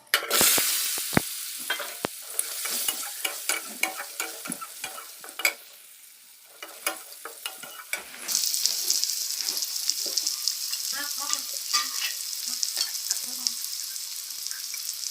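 Potatoes frying in oil in a wok are stirred with repeated close scraping strokes. A steady hiss of sizzling grows brighter and louder in the second half. There is no talk.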